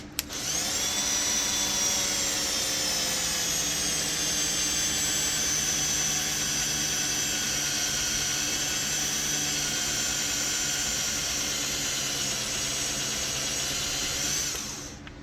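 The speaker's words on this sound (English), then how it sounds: "This is a wood bit, and I'm going to see how quickly it drills into here." A wood drill bit bores steadily into an aluminum motor mount for a Grom clone bike, giving a loud, sustained high whine that holds evenly for about fourteen seconds before stopping, with no talking.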